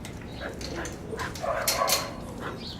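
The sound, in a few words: dog whining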